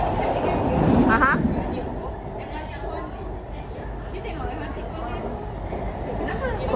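An MRT train rumbles steadily at Stadium Kajang station, a low continuous roar with faint squeals, under a hubbub of nearby chatter.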